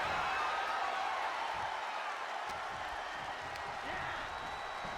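A Japanese women's wrestling event crowd gives a steady wash of cheering and applause throughout, with a commentator's voice over it.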